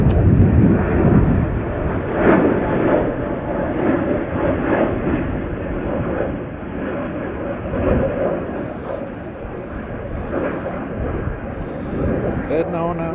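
A United airliner departing Chicago O'Hare for Houston rumbles with a steady engine roar and wind buffeting, while someone talks over it intermittently.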